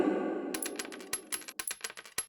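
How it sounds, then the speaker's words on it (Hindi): Gold coins clink and clatter into a pot, first a faint rustle, then a quick run of sharp metallic chinks and drops, some landing close together and others spaced apart, bright and fairly quiet. "उसी बर्तन में सोने के सिक्के नापने लगे दोनों,"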